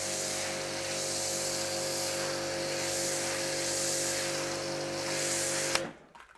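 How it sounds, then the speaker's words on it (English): MJJC Foam Cannon S V3.0 on a pressure washer at a lower setting, spraying foam as a steady loud hiss with an underlying pump hum, cutting off abruptly near the end. "Let's put it down on a lower setting on the pressure washer"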